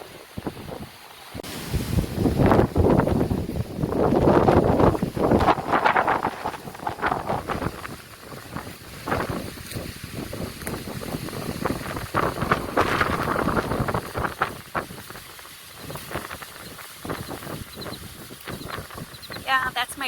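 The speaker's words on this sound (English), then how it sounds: "Blowing in the wind. I can barely stand." Strong gusting wind at a lake park in Kansas buffets the microphone loudly and close, rising and falling in heavy rumbling surges, while a person talks at times beneath the roar.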